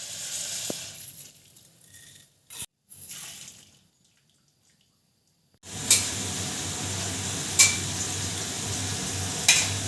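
Mushrooms simmer in a pot of water while fried rice is made in a home kitchen. A soft bubbling hiss drops to near silence, then returns louder and steady, with a few sharp clicks.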